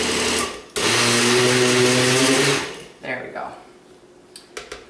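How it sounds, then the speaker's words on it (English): A food processor runs on low, blending hummus to a slightly bumpy texture, with a loud steady motor whir for about two seconds before it stops; brief talk and clatter follow. "I'm just going to let it run on low for a little bit"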